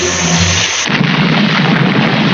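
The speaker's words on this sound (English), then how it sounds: "That explosion really smashed you up." A cartoon explosion effect bursts out as a loud, dense blast right from the start. It then gives way to a sustained roaring rumble with no voices.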